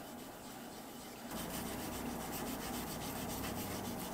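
Very fine grit sandpaper is rubbed lightly over a painted surface by hand in a marble-effect paint project, a close, continuous dry scratchy hiss that grows louder and denser after the first second.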